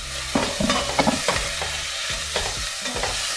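Pak choy stems stirred in a frying pan with garlic and ginger, a steady sizzle under repeated scraping stirs, close and fairly loud, with no talking.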